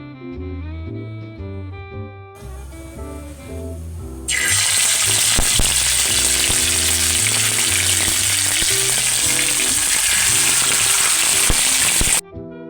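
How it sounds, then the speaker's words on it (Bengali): Chicken pieces added to hot white oil in a kadai: a sudden loud, steady sizzle and crackle of frying that continues for about eight seconds, with music playing underneath throughout. "চিকেনগুলো অল্প করে ভেজে নেব।"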